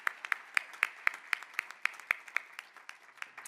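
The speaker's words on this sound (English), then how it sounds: "Please join me in recognizing Rosemary with a round of applause" Thin, evenly spaced hand claps from a small group, roughly a dozen steady beats, fairly faint, honoring Rosemary at the 2019 DSP of the Year awards presentation.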